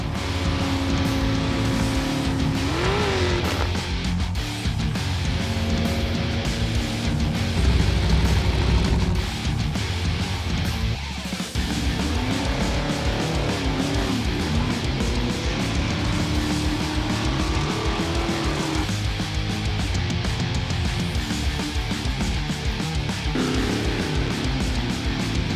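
Off-road race cars on the course at Fallon: a continuous, loud engine roar that rises and falls as the cars drive, lasting about twenty-five seconds without a break.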